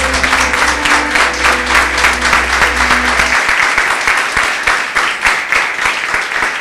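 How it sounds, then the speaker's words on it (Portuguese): A church congregation claps loudly in a sustained burst of applause, dense and even, with a low hum from the sound system under the first half before the clapping carries on alone. "Palmas para Ele. Bem forte."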